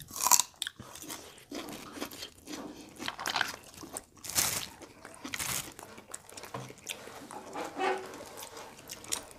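Blanched big cockles being eaten at close range, with soft crunching, biting and wet chewing in irregular bursts; the sound stays quiet and close, with no talk.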